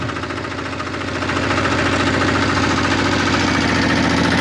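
A walk-behind tractor (motoblock) runs while reversing. Its engine gives a loud, continuous, vibrating drone close by, and it grows slightly louder and steadier after the first second and a half.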